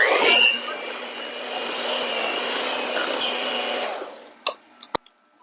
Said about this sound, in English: I will add that coconut cream to it and blend it